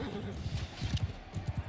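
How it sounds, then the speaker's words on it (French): A horse gallops in the video game Adalric, its quick drumming hoofbeats running in a steady rhythm under a busy, dense game soundscape of battle noise. "Sur le cheval."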